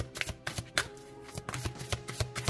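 Card drawn from a deck during a tarot reading: a quick series of crisp paper flicks and slides, close and fairly soft, in an irregular rhythm.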